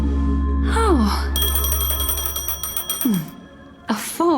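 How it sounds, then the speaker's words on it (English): A phone rings in the Honkai Star Rail video game, a steady run of bright, repeating electronic tones for a few seconds, with character voices speaking just before and after it. "A phone."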